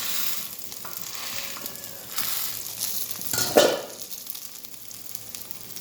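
Fish heads fry village-style in a pan, pressed down with a small bowl, giving a steady close sizzle with stirring scrapes and a louder burst of crackling partway through; no talking.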